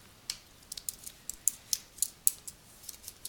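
Soft typing on a computer keyboard: a dozen or so light, quick keystroke clicks in an uneven rhythm, close by and faint, with no voice.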